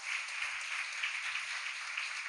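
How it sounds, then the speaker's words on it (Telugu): A congregation clapping in a Sunday worship service at a prayer hall, a steady, fairly quiet wash of many hands from some distance, with no talking over it. "చప్పట్లు కూడా దేవుని మహిమపరచండి"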